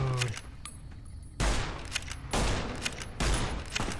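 Gunfire from the game Fallout: New Vegas: three heavy bursts of shots, each decaying into a rattling tail, separated by quieter stretches of game ambience.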